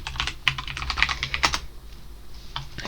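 Fast clattering keystrokes as a command is typed on a computer keyboard, close and crisp, a quick run of taps with a few louder key presses and a short pause near the end.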